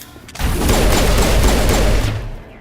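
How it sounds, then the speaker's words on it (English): Pistol gunfire in the Mass Effect video game, a loud rapid burst of several sharp shots in quick succession, lasting about two seconds with no voices over it. "Okay, this pistol actually works."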